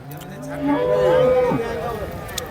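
Cattle low at the busy Erode cow market, a long drawn-out moo rising and falling close by over a steady crowd murmur.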